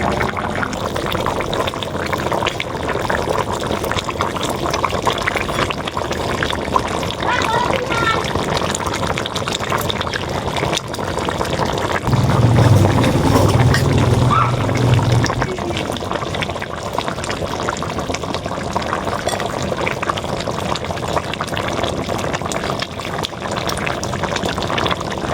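Pieces of a 4 kg glass carp are added to a boiling brinjal and potato curry, with steady bubbling throughout and a louder burst of splashing midway.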